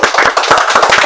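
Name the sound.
applause clapping for podcast guest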